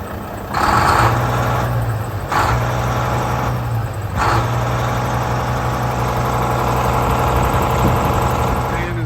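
A 2014 Volvo VNL670 truck with a Volvo D13 engine idles in a steady, low drone with a constant hum. A cooling fan roars in broad surges at first, then quiets.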